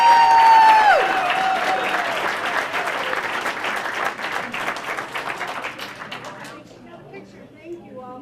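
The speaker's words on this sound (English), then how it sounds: "Let's give them a big round of applause." A crowd at a Senior Olympics awards ceremony applauds a group of 90-year-olds, loud clapping and cheering that starts over a voice and a brief whoop, then slowly thins and fades to scattered claps.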